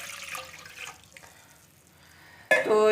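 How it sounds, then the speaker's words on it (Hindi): A mug of water poured into a pan of semolina for suji halva: a sudden loud splashing gush that starts near the end, after a stretch of quiet kitchen sounds. "वही मैं एक मग पानी का डाल रही हूँ इधर"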